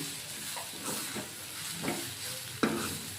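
Stirring of an egg and drumstick leaf fry in a hot pan, a steady sizzle and hiss with several scraping strokes of the spoon, ending in one louder scrape.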